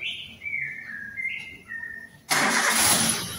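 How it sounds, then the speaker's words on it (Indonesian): A Daihatsu Xenia / Toyota Avanza engine cranks and catches after 20,000 km periodic maintenance with the air filter box refitted, then settles into a loud steady idle; birds whistle and chirp before it starts. "Selanjutnya, hidupkan mesin."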